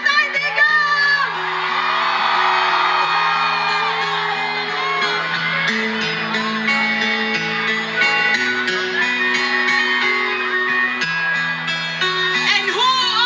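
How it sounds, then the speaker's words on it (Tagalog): A big crowd of supporters at a Duterte political rally shouts, whoops and cheers in a loud, sustained roar for over thirteen seconds, with sustained tones and shouting voices mixed in. "Isang malaking hiyaw!"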